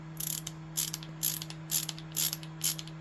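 A Snap-on 1/2-inch drive ratchet head adapter clicks through six quick, evenly spaced bursts of ratcheting, close and crisp over a faint steady hum.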